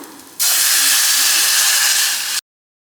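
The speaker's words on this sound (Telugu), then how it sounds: "ఇప్పుడు ఇందులో మనం చింతపండు రసం పోసుకుందాం" Tamarind juice poured into a hot pan of fried green chilli and garlic paste bursts into a loud, steady sizzling hiss that lasts about two seconds, then stops abruptly.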